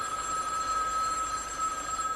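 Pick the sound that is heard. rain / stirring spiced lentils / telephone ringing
telephone ringing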